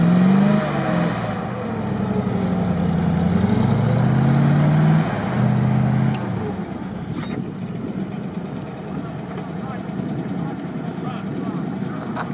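A GAZ-66 truck engine labours off-road, a loud rumbling drone that rises and falls as the truck moves, then settles into a lower steady idle while people talk over it.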